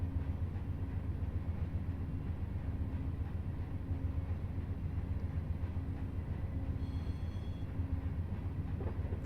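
Amtrak train at Selkirk, a continuous low rumble of rolling stock and engine, steady and close, with no distinct clatter or pauses across the stretch.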